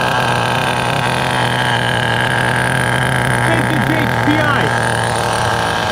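A restored HPI RS4 Porsche nitro RC car engine idles low and steady, a continuous close buzzing drone that never drops out, with someone talking over it.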